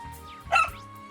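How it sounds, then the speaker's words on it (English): A dog gives one short, sharp bark in the middle of a brief moment, close and clear over a faint tonal background, with no talking. "Hey, no barking at Dad."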